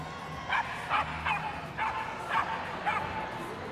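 Several dogs bark and yip in a quick series of about six sharp calls, some distance away over a noisy background, during a Good Citizen Dog Scheme display at Crufts 2016.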